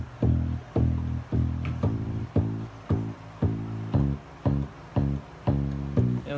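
A simple bass line for a home-recorded song plays alone, about a dozen evenly spaced, punchy low notes repeating in a steady rhythm, loud and close.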